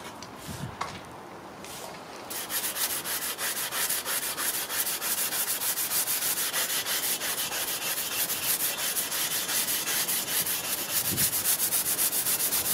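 Garryflex abrasive block scrubs black ferric oxide off a vintage scythe blade after electrolysis rust removal, producing a steady close rasping rub that starts after a brief pause and continues rapidly and evenly for about ten seconds.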